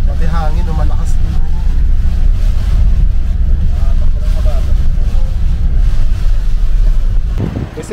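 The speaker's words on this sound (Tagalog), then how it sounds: "Pati hangin, malakas din." Strong monsoon wind buffets the microphone in a steady, loud low roar throughout at a port wharf, with rain or traffic noise and people talking over it.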